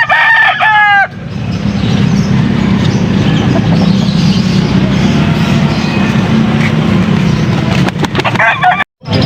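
A rooster crows loudly up close at a busy chicken market in Pampanga, a harmonic call in the first second, followed by steady crowd and market noise with a few faint clucks near the end.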